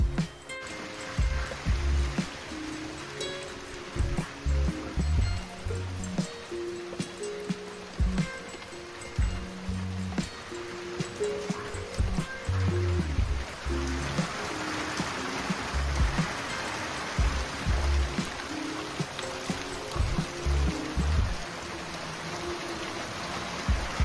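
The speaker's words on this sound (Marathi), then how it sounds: "आता माझ्या पाठीमागे म्हणजे त्या बाजू पाऊस लागता, कारण आवाज येता पावसाचा" Continuous village rain falling with a broad wash of patter, steady and moderately loud, with some irregular lower thumps and rustles mixed in.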